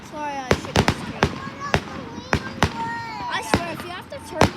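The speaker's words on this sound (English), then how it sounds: "Oh, Big Bang. It's a good firework." Fireworks show with a Big Bang firework: a rapid series of loud, sharp bursts and cracks, several close together, with people talking excitedly in between.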